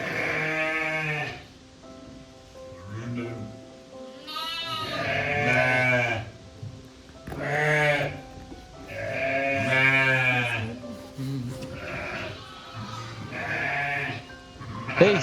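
Sheep and lambs bleat repeatedly, loud and close, in a hill farming village near Kodaikanal, several overlapping wavering cries in bursts with short pauses between.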